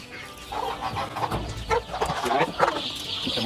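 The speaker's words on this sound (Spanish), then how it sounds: "acá en este salón están los pollitos y todas las gallinas" Chickens and chicks clucking and chirping steadily in a busy coop on an organic farm, several birds calling over each other at close range, with a higher peeping chorus of chicks joining in.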